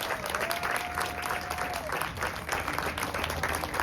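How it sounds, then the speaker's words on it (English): A graduation ceremony crowd claps for the graduates' supporters, a sustained wash of applause with a faint whistle-like tone early on and no talking over it. "Turn around and give them all a round of applause."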